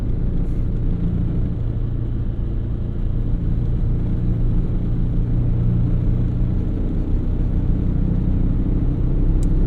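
A worn 260,000-mile 1999 Toyota Corolla rumbles steadily while being driven, its engine drone and road noise filling the cabin in a continuous low, rough hum without speech.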